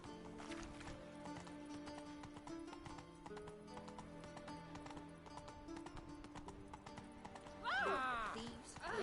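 Roach, Geralt's horse in The Witcher 3, trots along with steady clip-clop hoofbeats over game music and ambience, ending in a loud whinny near the close.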